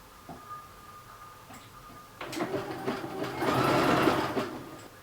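Sewing machine running a slightly stretchy zigzag stitch around the neck edge of a fleece poncho, joining the cowl to it, with quiet starts early on, then a steady close whirring burst that swells and fades near the end.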